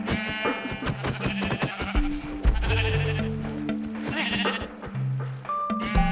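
Sheep in the Minecraft video game bleat repeatedly in loud, close, wavering cries, layered over game sound effects with no talking.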